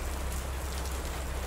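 Steady rain falls in a continuous, even hiss with a low rumble beneath, loud and unbroken throughout with no voices.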